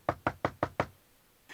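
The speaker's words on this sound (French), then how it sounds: "il revint frapper à la porte des petits chevreaux" Five sharp, evenly spaced knocks rap on a wooden door, close and clear, with silence after and no voices.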